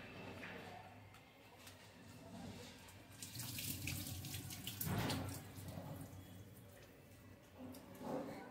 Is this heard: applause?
no